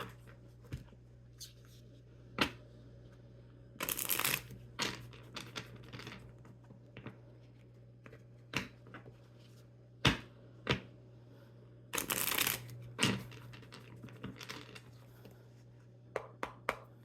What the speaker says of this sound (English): shuffle up the tarot cards